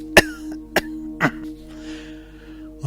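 A man coughs three separate times, close and fairly loud, the bursts spaced about half a second apart, then a low steady hum carries on with no speech.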